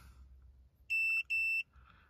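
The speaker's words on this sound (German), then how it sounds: "Das Piepsen übrigens das Gerät." An Autel AL 539b OBD scanner gives two long, clear electronic beeps in quick succession, standing out loudly over a faint, quiet background.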